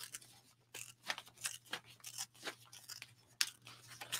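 Paper torn by hand along a folded crease, heard as a series of short rough ripping bursts with brief pauses between them, close and fairly quiet over a low steady hum.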